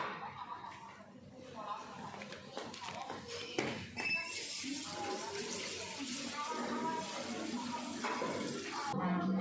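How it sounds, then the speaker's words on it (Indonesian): Water runs steadily from a tap during handwashing in a clinical practice room, a continuous hiss under nearby talking and a brief chuckle. "Izin cuci tangan."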